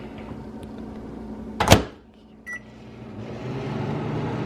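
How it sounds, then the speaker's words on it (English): Microwave oven heating a wrapped gas station sandwich, with a low steady hum, one sharp clunk or door thud partway through, a brief beep after it, then the hum carrying on. "the instructions on here say to keep it wrapped and put it in the microwave for a minute"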